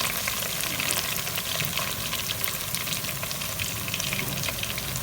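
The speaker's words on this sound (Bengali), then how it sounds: "এখন পেঁয়াজ দিয়ে দিতেছি। পেঁয়াজটা বেশি ভাজবো না" Onions fry in a pan for goose curry, giving a dense, even, continuous sizzle close up with no pauses and no talking.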